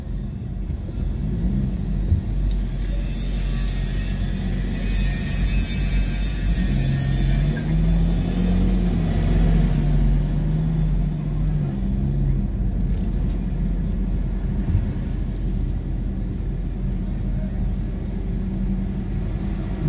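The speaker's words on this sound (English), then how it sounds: "Big ass fucking truck only took the whole damn street" A big truck rumbles past on a city street in Lawrence, Massachusetts, a loud, steady low engine drone lasting throughout with a rising tonal whine in the middle, heard from close by.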